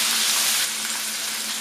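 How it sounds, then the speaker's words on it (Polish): Rolls of minced meat fry in a pan with a steady, dense sizzle and crackle, loud and close, with no voices. "Obsmażamy z każdej strony do zarumienienia."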